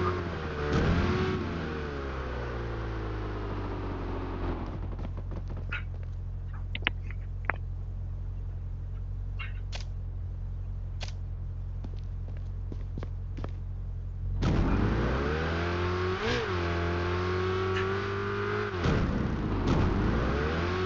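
Car engine in the Fortnite video game, a steady low hum while driving with rising revs near the start and a louder revving surge in the last few seconds, plus small scattered clicks in between.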